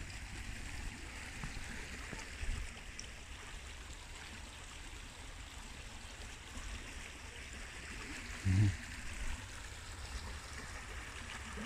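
Fast-flowing stream water rushes and babbles steadily at a low, distant level along a country walk, with a brief thump near the end.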